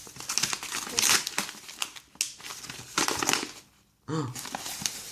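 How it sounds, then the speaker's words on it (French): Taped cardboard parcel packaging being torn and crumpled open by hand, close and busy crinkling and ripping in repeated bursts, a brief pause near the end, then more tearing. "je déchire ça, je suis obligé"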